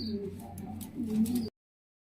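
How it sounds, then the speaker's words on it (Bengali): Lahori pigeons, exhibition-type females, give a brief soft coo that swells near the end, faint and close, cutting off abruptly after about a second and a half. "লাহোরি কবুতর মাদি এক্সিবিশন মাদি কবুতর"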